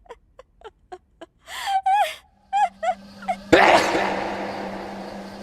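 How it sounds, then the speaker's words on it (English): A sudden, violent sneeze bursts out loud and close after a string of short vocal gasps and squeaks, trailing off into a hissy burst of breath. "Violent sneeze."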